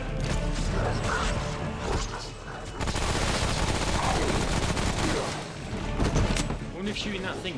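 Dense, rapid gunfire in the Remnant from the Ashes action game, continuous loud bursts with crashing impacts and mechanical clatter, close and nearly unbroken across the stretch.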